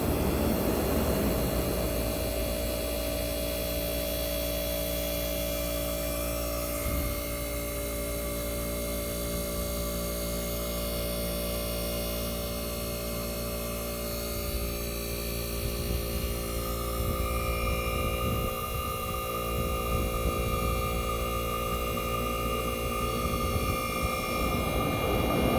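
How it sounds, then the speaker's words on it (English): A Tecumseh AJM compressor runs inside a 1965 Fedders Weatherwheel air conditioner with its fan switched off, giving a steady, close mechanical hum with a tonal drone and a broadband hiss that hold for the whole stretch with no talking. "This is the Tecumseh AJM compressor running."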